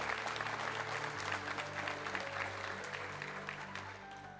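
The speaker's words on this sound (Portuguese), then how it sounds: "Pode aplaudir Jesus, Ele merece." A church congregation claps together in a dense, sustained round of applause that slowly fades, heard from a distance over faint background tones.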